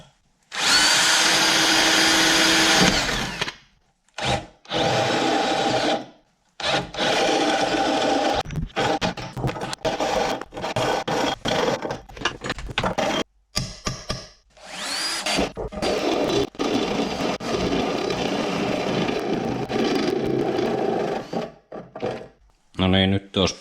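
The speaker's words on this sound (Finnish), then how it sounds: "No niin, nyt olisi poraattu." A power drill bores a 30 mm hole through a scooter's plastic cover, loud bursts of whirring and grinding starting and stopping repeatedly, broken by short pauses and clunks as the drill is handled.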